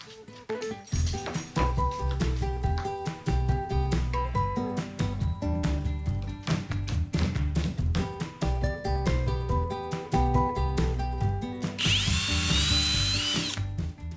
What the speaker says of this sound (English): A quick pre-drill, and then I can sink the screws into the existing plywood base.